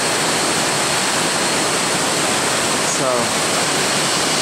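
A tall waterfall in Thailand, either Wachirathan or Mae Ya, sends water down from high in the hills, producing a loud, constant roar of rushing water while a voice speaks briefly.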